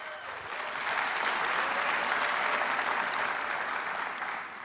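A crowd at the CES 2019 industry keynote applauds steadily for several seconds, building quickly and then tapering off near the end.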